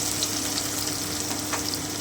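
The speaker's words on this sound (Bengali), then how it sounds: "আমি ভালো করে হালকা ব্রাউন করে ভেজে নিচ্ছি।" Chopped onion frying in hot oil in a pan, a dense continuous sizzle held close and loud with faint stirring scrapes, no voices.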